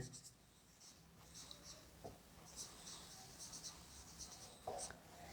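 Pen writing out a definition in a math lesson, faint scratchy strokes in short bursts with small pauses, quiet and close, with soft room noise and occasional light tapping.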